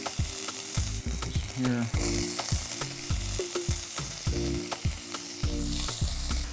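Anchovies and shaved corn fry in a hot pan for a squash blossom filling, a steady close sizzle punctuated by repeated stirring scrapes and clatters throughout, with a brief word spoken.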